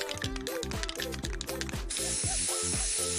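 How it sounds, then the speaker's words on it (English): A steady hiss of a spray paint can coating corrugated cardboard starts midway and continues over background music. "Spray paint."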